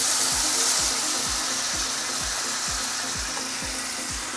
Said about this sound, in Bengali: এবার আমি এর মধ্যে দিয়ে দিচ্ছি জল।